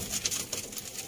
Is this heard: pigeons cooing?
yes